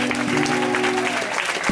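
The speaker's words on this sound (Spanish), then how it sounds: "Aleluya, aplauda a Cristo Jesús esta mañana." A congregation claps together during a Spanish-language church anniversary service at Iglesia Central El Monte de Jehová, a loud, dense wash of hands over sustained keyboard or organ tones, with some voices mixed in.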